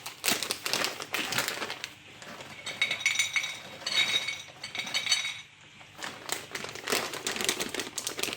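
Dry cashew nuts rattle and crinkle into a packaging tray of boxed curry, a run of light clinks and rustles in several bursts, close and fairly loud with no talking.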